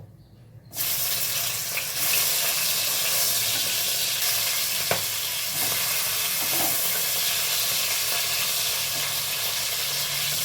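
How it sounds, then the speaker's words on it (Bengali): Fish frying in hot mustard oil in a wok, a loud, continuous sizzle that bursts in suddenly after a brief quiet moment and then holds steady, hissing and crackling close up with occasional pops. "তেল গরম হয়ে গেছে, এখন আমি একে একে মাছগুলো ভেজে নেব।"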